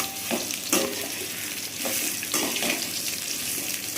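Raw mango pieces sauté in oil with mustard seeds and dried red chilies, giving a close, steady sizzle broken by a few stirring scrapes and clatters.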